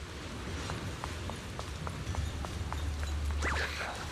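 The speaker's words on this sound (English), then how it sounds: "Ah, the rain." Steady rain hiss in a video game, a soft continuous wash of drops with faint repeated ticking taps, no talk, rising slightly near the end.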